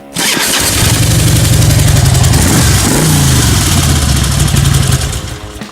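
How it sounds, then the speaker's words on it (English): A motorcycle started with the ignition and start button, the engine catching at once, running loud and close, then revving up briefly and settling back to a steady idle. "First, you turn on the ignition. You hit your start button."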